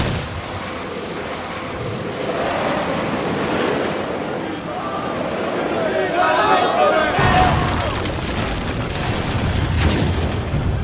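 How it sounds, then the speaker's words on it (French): A cannon shot blows up the cargo of an enemy ship in a pirate game: a deep boom and roar that swells into a long rumbling, wave-like wash, with voices talking throughout. "la cargaison a explosé"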